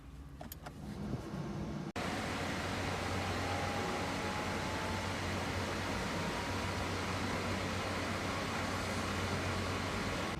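Air conditioning running in a BAIC EV160 electric car, a steady close whoosh and hum that starts abruptly after a brief quieter moment and then continues evenly.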